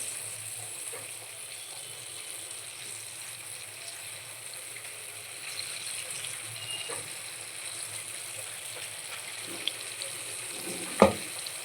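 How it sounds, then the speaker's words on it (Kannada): Small portions of jackfruit vada batter deep-fry in hot oil with a quiet, steady fizzing sizzle throughout, broken by a single sharp utensil clink near the end. "ಈ ಥರ ಚಿಕ್ಕ ಚಿಕ್ಕದಾಗಿ ಬಿಡ್ತಾ ಹೋಗ್ಬೇಕು ನೋಡಿ ಅದೆಲ್ಲ ಯಾವ ಥರ ಎಣ್ಣೆಯಿಂದ ಮೇಲೆ ಎದಳ್ತಿದೆ"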